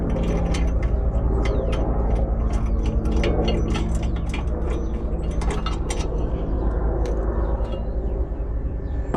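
Rapid metallic ratcheting from a wrench loosening a 19mm bolt on a Nissan 240SX, repeated clicking bursts close up and loud over a steady background hum, with no talking.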